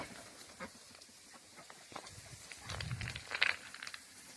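Goats on a farm bleat faintly among other livestock, with a louder, closer call near the end over low scuffling and background noise.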